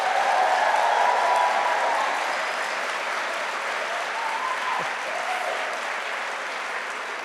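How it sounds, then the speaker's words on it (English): A graduation ceremony audience at Liverpool University bursts into loud, sustained applause in a large hall, the clapping dense at first and then gradually thinning out. "Do you want to give me your loudest possible round of applause, please?"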